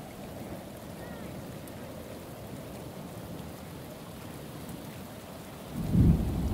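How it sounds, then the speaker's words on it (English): In the video game Shadows of Doubt, steady heavy rain hisses without break, and a low thunder rumble swells near the end. "Shadows of Doubt, and the rain is loud as fuck."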